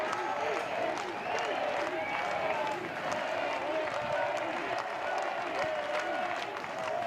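A Louisville home crowd at an NCAA baseball championship game against Miami keeps up steady applause and cheering throughout, a dense roar with scattered claps and voices mixed in.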